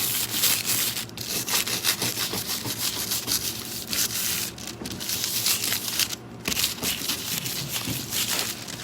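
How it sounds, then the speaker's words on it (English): Small brush scrubbing non-fabric-friendly foil onto a craft project, a steady close rasping rub with brief pauses and no talking. "And I'm gonna scrub with my little brush."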